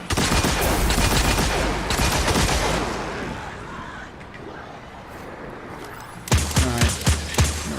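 Dense, rapid gunfire in the video game Destiny 2, sustained bursts that fade into a quieter stretch before a few sharp, heavy shots return near the end.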